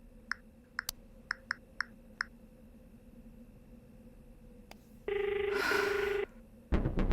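A telephone gives one steady electronic ring tone lasting about a second, after a few soft clicks, in a quiet indoor room during a movie scene.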